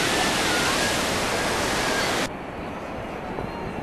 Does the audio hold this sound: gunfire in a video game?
no